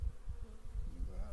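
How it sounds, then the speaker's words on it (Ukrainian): Carniolan honey bees hum from an opened hive during a spring colony inspection, a steady, close, low buzzing that fills the whole brief moment without any talk. "бджола спокійненька"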